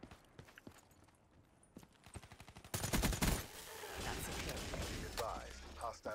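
Slow, widely spaced rifle shots from the Man-O-War in Black Ops 3 Team Deathmatch on Stronghold, a few sharp cracks followed by a louder burst of game noise with a voice speaking over it.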